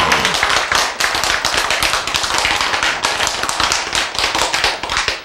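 An audience breaks into applause, dense and loud clapping from many hands that holds steady for several seconds before starting to fade at the end.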